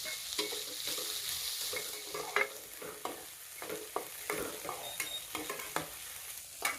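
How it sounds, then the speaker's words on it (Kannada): Sprouted grains with onion frying in a pan, soft steady sizzle with frequent scraping stirs of a spoon at an uneven rhythm, close but quiet. "ಇವೇನು ನಾವು ಮೊಳಕೆ ಕಾಳು ಅವನ್ನ ಎಲ್ಲಾನು ಇದ್ರಾಗ ಹಾಕಿ ಚಂದಂಗೆ ಫ್ರೈ ಮಾಡ್ಕೋಬೇಕ್ರಿ"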